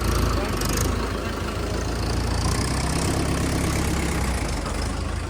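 A Mahindra 585 tractor engine idles near a wet field, making a steady, loud, close rumble that holds evenly throughout with a voice faintly underneath.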